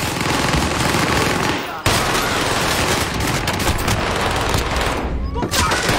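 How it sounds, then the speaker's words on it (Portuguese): Loud, dense automatic gunfire rattles almost without pause in a Call of Duty: Warzone match, broken by a short gap and clattering bursts, with voices heard under it. "Para de atirar em mim."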